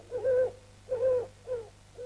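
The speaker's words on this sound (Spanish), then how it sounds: "¿El búho?" An owl hoots four times in a steady, even rhythm, each call a soft, round, mid-pitched note, close and clear over a low background hum, with no talking.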